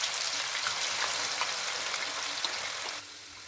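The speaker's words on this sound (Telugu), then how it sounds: "ఆయిల్ మంచిగా హీట్ ఎక్కిన తర్వాతకి ఈ బెండకాయ పీసెస్ని అనేది ఆయిల్లో వేసేసుకొని బాగా గోల్డెన్ బ్రౌన్ వచ్చే వరకు డీప్ ఫ్రై" Okra pieces deep fry in hot oil over a medium flame, a steady close, bright sizzle with fine crackling pops that carries on unbroken and then drops to a quieter hiss near the end.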